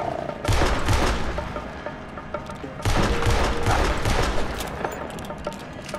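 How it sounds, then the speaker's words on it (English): Loud gunfire in the video game Red Dead Redemption 2, fired at a cougar: two dense bursts of shots and booms, each lasting a couple of seconds, heard up close with no talking over them. "Shoot the damn cougar."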